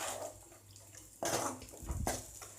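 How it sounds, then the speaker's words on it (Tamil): Strained tamarind water poured into a pot of vendakkai sambar, starting as a quiet trickle, then two louder, close splashing gushes of liquid, with no talking. "புளி தண்ணி எடுத்து வச்சுருக்கோம்ல வடிகட்டி, அதை ஆட் பண்ணிடலாம்."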